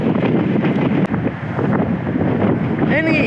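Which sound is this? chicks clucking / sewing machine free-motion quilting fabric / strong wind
strong wind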